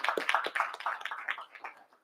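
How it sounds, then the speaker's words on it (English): A small group claps briefly for the school custodians at a board of education public session, a short, fairly close burst of hand claps that thins out and fades within two seconds. "And this applause is for all of our custodians."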